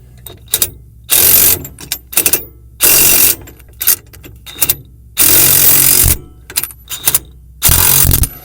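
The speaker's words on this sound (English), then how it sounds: "my impact wrench has a 600 foot-pound torque capability" A pneumatic impact wrench hammering 19 mm bolts on an RV weight distribution hitch, loud and close, in several sustained rattling bursts of about a second each, separated by shorter clicks and clanks.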